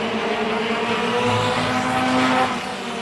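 Race cars battle through a heat race on a track, engines roaring loudly with rising and falling pitch as they pass, tires squealing in a continuous wash of motor noise.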